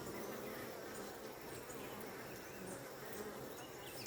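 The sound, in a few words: bees arriving at a hive carrying pollen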